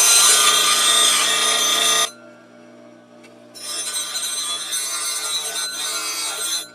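A high-speed steel blank is ground against a bench grinding wheel, giving a loud, steady abrasive rasp for two seconds, then a quieter gap, then the grinding resumes and holds to the end.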